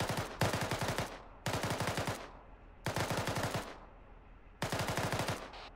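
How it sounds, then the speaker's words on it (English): Bursts of machine gun fire in the military shooter game ARMA 3, four loud rapid volleys of shots with short pauses between them and no talking. "Whoever's firing that MG, your shots are low."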